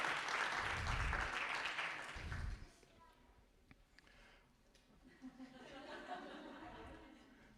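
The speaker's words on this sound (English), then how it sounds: "but this is your applause" Audience applause at an accessibility summit BarCamp day, a loud burst of clapping for the event organiser in the first few seconds, then fading into scattered sounds and light chatter.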